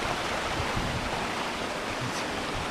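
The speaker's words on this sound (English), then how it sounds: "the water seems to be really loud" A mountain stream in the Trap Dike on Mt. Colden, swollen after rain, rushes loud and unbroken, a dense close roar of water with no voices.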